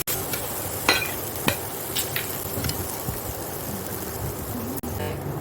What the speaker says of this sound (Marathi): इथे आपण 1 टेबलस्पून तेल टाकून घेतलं. आणि ते खोबरं जे ओलं खोबरं आपण घेतलं ना, हे ते भाजून घेऊया.